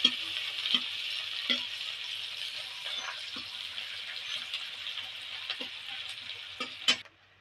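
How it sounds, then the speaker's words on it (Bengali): Chopped onions fry in a pan after a dried-chilli tempering while being made into ghughni, with a steady close sizzle and repeated sharp scrapes and knocks of a spatula stirring them. "কুচিয়ে রাখা পেঁয়াজ দিয়ে দেবো পেঁয়াজটা নেড়ে চেড়ে একটু ভেজে নেবো"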